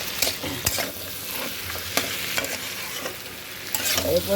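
Jackfruit seeds frying in a pan while being stirred, a soft continuous sizzle broken by repeated scraping clatters of the spoon, close and moderately loud.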